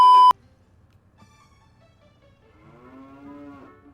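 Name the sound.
cow mooing in the video game Zelda: Ocarina of Time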